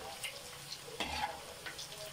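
Hot dog pieces fry in a pan, a soft close sizzle with scattered pops and a brief clatter as they are stirred, fairly quiet throughout.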